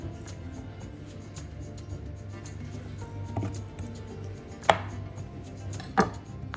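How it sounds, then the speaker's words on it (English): Knife cutting tofu into small cubes on a board, soft steady chopping taps with two sharper knocks near the end, close and alone with no talk. "we're gonna cut it up into smaller cubes and marinate it in our chili oil"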